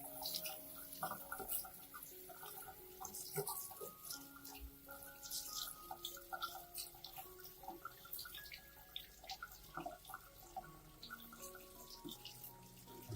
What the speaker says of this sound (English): rinse the entire plant with clean water to remove dirt, bacteria, and impurities from the roots and leaves